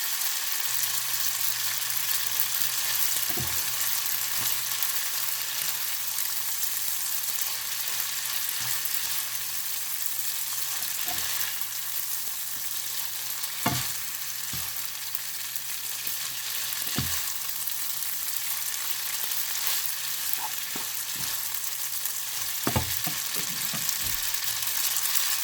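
Spaghetti with bacon stir fry simmering in a pan, a steady close sizzle with occasional soft pops and stirring clicks, no talking.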